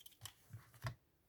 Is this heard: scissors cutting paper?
yes